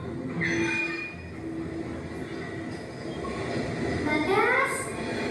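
A train passes near a station, giving a rolling rumble with metallic wheel squeals rising toward the end. Voices can be heard faintly beneath it.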